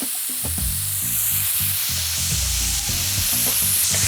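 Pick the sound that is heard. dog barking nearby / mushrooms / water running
mushrooms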